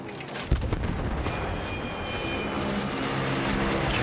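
Gunfire and heavy artillery in the Battlefield 1 campaign, a sharp close shot near the start over a dense, steady rumble of distant explosions and aircraft engine noise that continues throughout.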